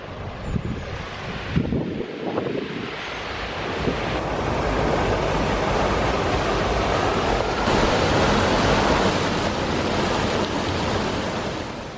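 A river swollen to flood after Storm Eunice roars as a loud, continuous rush of water, with wind buffeting the microphone early on.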